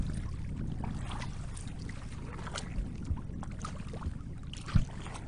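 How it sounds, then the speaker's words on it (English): Choppy, wind-driven waves slosh and lap steadily against a kayak's hull on Coniston Water, with low wind rumble and a few louder splashes near the end. "Wind's really picking up. So are the waves."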